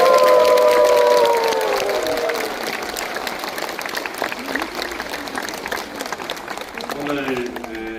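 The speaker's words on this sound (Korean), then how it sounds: "안녕의 박수를 보냅시다." A church congregation applauds the arriving Fatima international pilgrim statue of the Virgin Mary, dense sustained clapping with crowd murmur, following a sung or spoken tone at the start and with a voice rising near the end.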